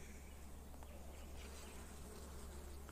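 Honeybees swarm over the frames of an open beehive during a June hive inspection, producing a steady, dense, close buzzing hum with no talking.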